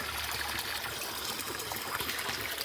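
Fresh water in a small stream in a Kenyan village trickles and gurgles steadily, a close continuous babble with no voices.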